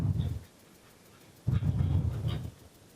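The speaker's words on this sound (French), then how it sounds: "c'est quelques grognements qui sont exprimés en séquence" Piglet grunts in a short sequence: two low grunting bursts, a brief one at the start and a longer, rougher one after a pause, fairly close and moderately loud.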